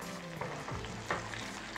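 Poppy seed paste frying in oil as it's stirred in a pan, a steady soft sizzle with a few scraping stirs of the spoon, close and fairly quiet.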